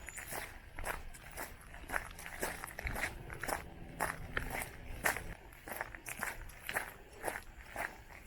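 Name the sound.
footsteps walking through bush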